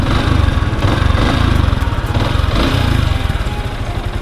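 A Yamaha Sniper 155R motorcycle, run a year and two months, about 1.8 thousand on the clock and not yet given an oil change, revs up close, its engine pulsing in quick, throbbing bursts.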